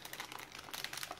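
An MRE almond candy packet is torn and crinkled open, giving a close run of dry plastic crackles and rustles across a brief burst.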